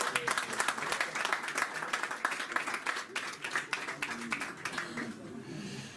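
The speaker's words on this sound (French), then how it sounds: "Je vais vous demander tous d'applaudir Khatib Yassine parce qu'on lui doit beaucoup." An audience at a documentary film screening applauds, a thick stretch of many hands clapping that gradually thins and fades out near the end, with some murmured voices mixed in.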